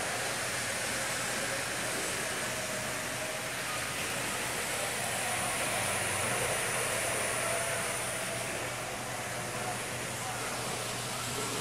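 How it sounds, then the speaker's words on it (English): A model train runs through the miniature village display at Roadside America in Shartlesville, Pennsylvania, giving a steady, continuous mechanical whir and rumble mixed with room noise for the whole stretch. "This train going, I'm operating."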